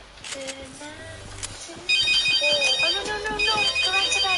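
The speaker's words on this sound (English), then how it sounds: "That's my phone." A phone ringtone bursts in loudly partway through and keeps repeating a bright electronic melody, while a person talks over the start of it.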